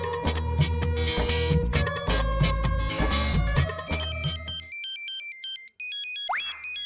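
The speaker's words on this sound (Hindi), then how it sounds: "ये किसका मोबाइल बजा?" A mobile phone ringtone plays loudly in a classroom during an exam, first as a busy tonal melody with rhythmic beats, then as a thin repeating electronic chime that ends in a rising swoop.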